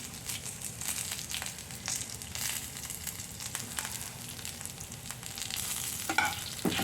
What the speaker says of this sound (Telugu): అలాగే వెల్లుల్లిపాయలు వేసుకుందాం ఇప్పుడు కరివేపాకు కూడా వేసుకుందాం